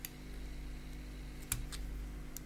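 A thread cutter snips beading thread during bracelet making: one short, crisp click near the middle of a quiet, close-up room, with a few faint ticks around it.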